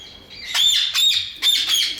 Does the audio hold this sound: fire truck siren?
no